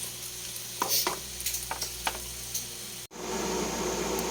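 Beef sautés in a hot pan for garlic pepper beef, a close steady sizzle punctuated by several sharp spatula scrapes and taps, ending in a momentary gap before the frying hiss resumes louder.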